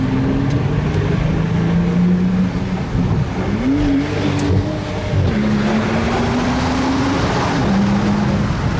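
A Mercedes S65 AMG accelerates hard on a sunny road above Monaco. Its engine roars loudly, rising in pitch through several gear changes with brief dips between them, against steady wind rush and no speech.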